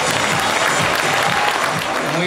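A crowd at a football club's youth school presentation applauds its club president with steady, dense clapping. The clapping is close and loud and carries on without a break.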